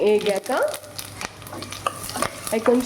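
Cumin seeds fry in a pan for Chennai-style kattu pongal, a close crackle and scrape of stirring with a few sharp clicks, steady and moderately loud with no talk.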